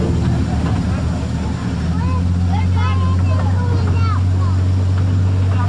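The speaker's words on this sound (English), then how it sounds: "We're on the train, the rail train." The old Kennywood Railroad amusement park train rolls along with a steady low rumble and drone, while riders chatter and call out nearby.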